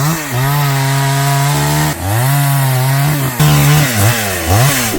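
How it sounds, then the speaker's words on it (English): A chainsaw engine runs loud and close, holding a steady drone, then revving and bogging down in surges as it cuts wood while clearing a stream on a Jamaican farm. "I'm gonna visit the power saw area. Chainsaw."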